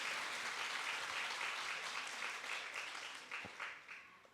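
A church congregation clapping together during a Sunday morning service, a dense roomy applause that holds steady and then thins out, with a few separate claps near the end.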